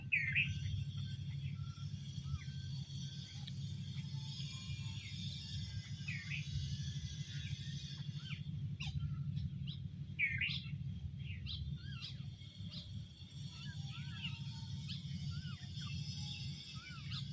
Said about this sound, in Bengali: সবগুলা পাখি মিলে তো ক্যাচ ক্যাচ করছে